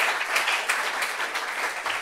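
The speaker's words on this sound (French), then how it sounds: "Applaudissements." An audience applauds at a family reunion meeting, a steady, dense wash of clapping that fills the short moment without any speech over it.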